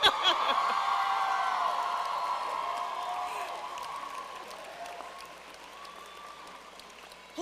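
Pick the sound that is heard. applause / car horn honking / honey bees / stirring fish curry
applause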